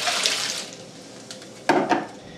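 Liquid stock poured from a container into a gallon Ziploc bag held in a kitchen sink, a short splashing gush that swells then cuts off near the end, close and fairly quiet.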